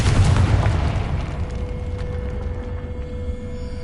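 A Confringo fire spell blast in Hogwarts Legacy bursts loud and close with a heavy boom, then fades into a lingering rumble and a thin ringing tone over about three seconds.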